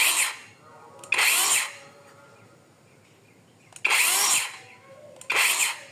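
MOLLAR cordless circular saw on a 2Ah battery running free, three short high-pitched whirring bursts that spin up and wind down, each trailed by a quiet hum between them, close and loud.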